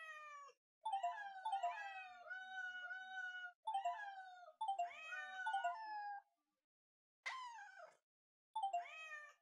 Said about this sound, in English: That one meow that it does actually slightly startles me